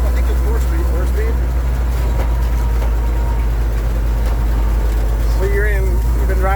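A 1928 Graham Brothers truck rumbles along in second gear, its deep, loud, steady engine drone filling the cabin while people talk over it.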